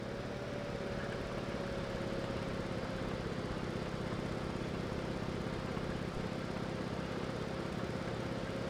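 Cromwell tank engine in the video game Post Scriptum, a steady droning rumble that runs unbroken throughout, fairly distant and low.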